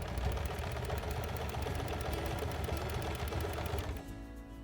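Sewing machine stitching quilted fabric, a fast continuous mechanical whirr with rapid needle ticking, steady and close, stopping shortly before the end.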